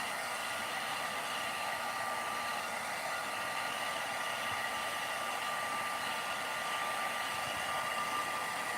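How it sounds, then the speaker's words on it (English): A hair dryer blowing on a doll's hair, a constant close rushing whir with a faint tonal whine, steady and unbroken throughout with no talk. "Just blow dry it."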